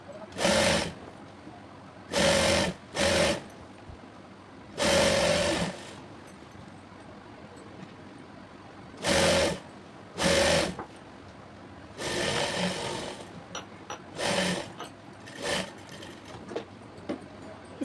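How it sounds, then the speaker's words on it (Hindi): A sewing machine stitches the lining to the main fabric of sharara pants in short, separate runs, each burst of rapid needle chatter followed by a pause. "पहले हम अस्तर को और मेन फैब्रिक को कच्चा कर लेंगे, इस तरह से सिलाई कर लेंगे।"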